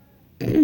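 A woman gives a short, close cough and throat clear, a sudden burst after a brief quiet moment.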